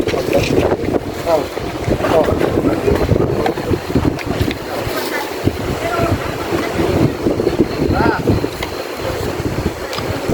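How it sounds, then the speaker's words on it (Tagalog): Strong wind gusts buffet the microphone on a boat ride, a loud, continuous roar of rushing air with a low rumble mixed in. "Hinahangin na."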